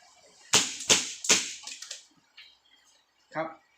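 Three sharp, snappy shots from a black M1911A1 airsoft BB pistol fire in quick succession, close and loud, followed by a few softer clicks.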